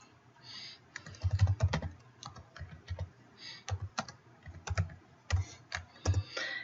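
Rapid keyboard typing in uneven bursts of clacking keystrokes, close by, with short pauses between runs.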